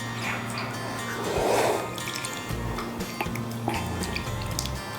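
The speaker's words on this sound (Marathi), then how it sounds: "आता मी याला पाण्यात स्वच्छ धुवून घेणार आहे" Feet freshly scrubbed in a home pedicure are rinsed in a basin of water, giving soft splashes, drips and wet squishing movements, close up with no talking.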